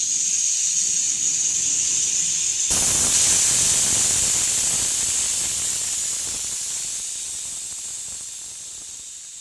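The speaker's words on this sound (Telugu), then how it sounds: "కుక్కర్కి 4 విజిల్స్ వచ్చేంత వరకు ఉంచండి." A pressure cooker on the stove releases steam with a loud, continuous hiss. The hiss sharpens into a stronger rush partway through, then slowly fades, with no talking.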